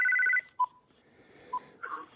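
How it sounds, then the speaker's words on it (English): A telephone rings with an incoming call: a rapid warbling ring burst, then two short isolated beeps, close and clear with no talking. "Phone call's coming through."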